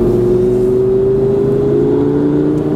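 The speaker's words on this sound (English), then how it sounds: "I like to hear the car. This car has some noise to it." A car engine revs loudly and steadily close by, its droning note rising gradually as the car accelerates, with no talking.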